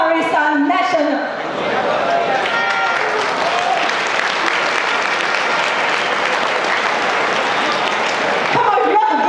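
Sustained applause from a dinner audience at a political party event in Malaysia, a dense steady wash of many hands clapping for several seconds, with a voice speaking briefly at the start and end.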